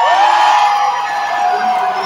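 A packed concert crowd in Prague roars and whoops, a loud sustained wall of cheering with shrill yells on top, heard up close.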